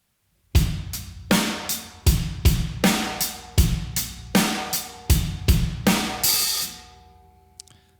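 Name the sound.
drum money beat with closed hi-hats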